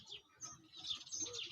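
A pet parrot chirps in a quick run of bright, twittering calls, moderately close and fairly soft, with no talking over it.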